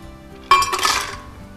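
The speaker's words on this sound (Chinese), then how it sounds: "我们先在果汁机里面加冰块" Ice cubes tumble into a juice blender jar, a single short burst of hard clattering and clinking that fades within about a second.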